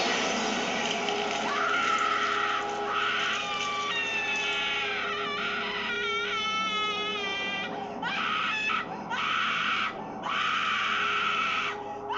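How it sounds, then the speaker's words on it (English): A Halloween animatronic prop lets out a long run of shrill, warbling, cry-like screams and wails in repeated bursts, loud and close, with brief breaks between outbursts. "The the screaming sounds crazy on this thing."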